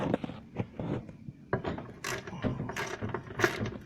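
Motor mount nuts being removed from a 2004 Yamaha Rhino 660 produce close, irregular metallic clicks and ratcheting bursts, fairly quiet, with short pauses between turns of the wrench.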